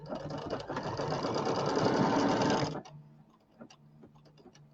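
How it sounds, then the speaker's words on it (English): An embroidery machine stitches out a pieced birdhouse quilt block, running loud and steady with a dense mechanical rattle for most of the moment, then stopping abruptly and leaving faint ticks and clicks. "And then we'll stitch out step number 9, which will be the stitching line for those 2 pieces."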